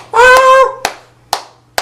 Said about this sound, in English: I'd start clapping like a seal